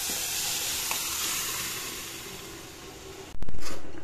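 Dal (varan) is poured into a small amount of hot oil in a pan, giving a continuous loud sizzle and hiss that surges sharply near the end as the liquid hits the oil. No one speaks.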